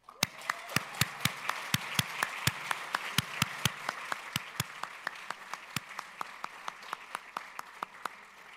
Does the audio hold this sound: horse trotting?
no